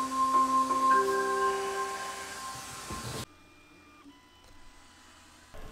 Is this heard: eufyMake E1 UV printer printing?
yes